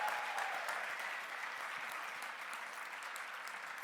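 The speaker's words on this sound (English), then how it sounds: "Give them a round of applause." Conference audience applauding the volunteers of Florida Community Care, a soft, distant, even patter of many hands clapping that holds steady without a break.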